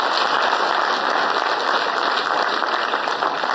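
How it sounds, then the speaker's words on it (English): An audience claps steadily at an entrepreneurship summit session, a dense even wash of applause with no voices over it. "I think a big round of applause, especially for the organizing committee."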